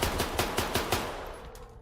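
Rapid automatic gunfire from an enemy in S.T.A.L.K.E.R. 2, around six sharp shots in a quick burst that tails off into echo, fairly close and loud with no talking.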